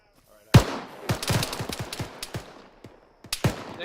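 Rifle gunfire during a military field training exercise, a sharp loud crack followed by a rapid burst of shots, a pause, then another close volley.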